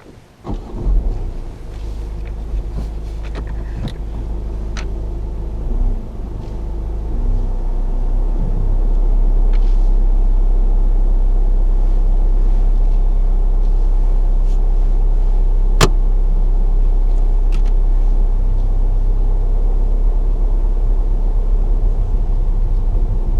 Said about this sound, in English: I'd like to drive alongside that white car and then reverse back in within a space of 2 car lengths